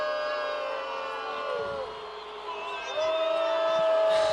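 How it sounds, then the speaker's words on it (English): A Paradise football crowd roars and boos after a Bobcats flag on an Enterprise pass play, a steady dense wash of voices with whistles and shouts that swells louder near the end. "you hear this Paradise crowd going nuts"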